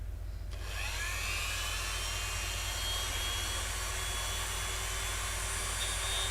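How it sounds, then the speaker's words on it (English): A Dremel rotary tool spins up after a brief start and then whines steadily at high speed, a close, continuous high-pitched motor tone with a low hum beneath, no talk. "I'm just going to be using the Dremel a sec,"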